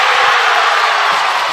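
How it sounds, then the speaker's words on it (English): A huge crowd in a school gym roars and cheers continuously at a basketball game, the dense, loud noise holding steady from start to finish. "Listen to this Huge crowd."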